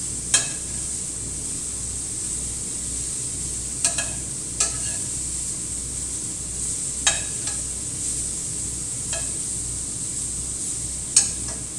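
Steak frying in a pan gives a constant soft hiss, broken every few seconds by sharp clicks and taps from the pan or utensil, close and without talk.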